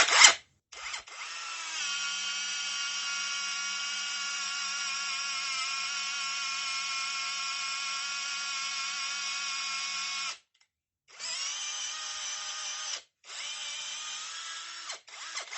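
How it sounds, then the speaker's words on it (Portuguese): A 5-in-1 cordless screwdriver runs at low speed and high torque, giving a steady high-pitched motor whine for several seconds, then stopping and starting again in shorter bursts, close and clear. "Vou jogar aqui para a baixa rotação com alto torque"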